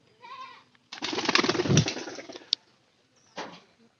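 Pet pigeons in a loft, a few soft close coos and rustles in short bursts with quiet gaps between them.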